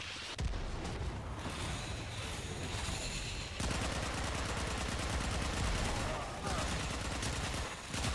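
Missile fire in Warframe rumbles as dense, continuous blasts and rapid gunfire, loud and unbroken throughout, with brief shifts in intensity and faint speech buried in the din.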